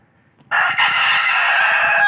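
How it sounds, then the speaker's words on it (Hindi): White roosters crow in a loud, sustained call close by, with hens clucking faintly underneath on a farm; the crow starts abruptly after a brief quiet moment. "दो मुर्गे और दो मुर्गियाँ यहाँ पे"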